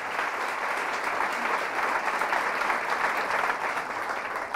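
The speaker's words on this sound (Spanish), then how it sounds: "Fuertes aplausos" A church congregation applauds loudly during a Catholic sermon, steady dense clapping that holds at an even level throughout without pauses.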